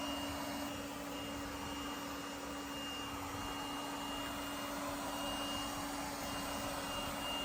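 A Lefant LS1 lidar robot vacuum cleaner runs steadily as it crosses from linoleum onto carpet, giving a constant close-up whooshing suction drone with a thin, steady high whine and no pauses.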